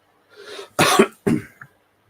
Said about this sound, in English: I got a horrible feeling I got a cough coming.